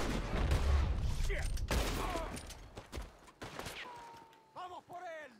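Gunfire in Red Dead Redemption 2, a burst of loud shots and crackling fusillade in the opening seconds, then scattered lighter reports with game effects as the firefight continues.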